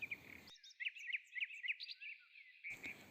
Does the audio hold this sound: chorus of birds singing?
yes